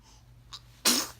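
A single sharp sneeze, close and sudden, preceded by a faint intake of breath in an otherwise quiet room.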